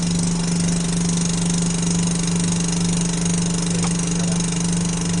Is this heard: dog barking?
no